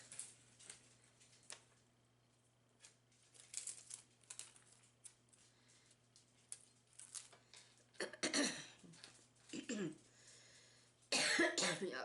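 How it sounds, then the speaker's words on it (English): Quiet room with scattered small clicks and handling noises during a craft project, then a few close, sharp coughs from someone with a cold near the end. "Excuse me if I cough or sniffle, I'm still fighting this cold"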